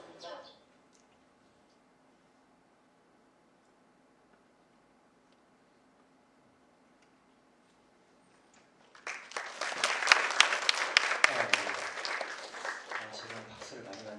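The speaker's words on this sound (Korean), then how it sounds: "지금 박수를 많이 받네요." An audience at a community welfare centre presentation breaks into applause after a long quiet stretch, with steady, dense clapping that continues loudly to the end.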